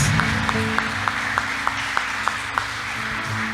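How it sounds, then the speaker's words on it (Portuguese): A church congregation claps in a steady, even rhythm during a Sunday service, the sharp claps repeating about three times a second over sustained musical tones. "Aplauda o Senhor Jesus"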